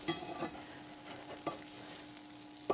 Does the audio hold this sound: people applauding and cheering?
no